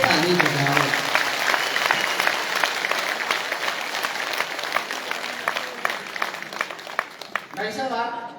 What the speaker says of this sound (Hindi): मेरे सम्मान में भी ढंग से ताली बजाओ।